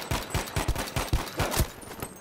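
Rapid bursts of gunfire in Battlefield V, a run of sharp close shots in quick irregular succession, loud and alone without talk.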